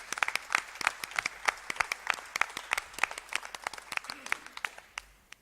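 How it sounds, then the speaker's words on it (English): An audience at the Sri Lanka team jersey launch for the ICC Women's T20 World Cup 2023 claps steadily, many hands giving a dense, lively round of applause that carries on throughout without letting up. "Shall we give a good round of applause in welcoming him this evening?"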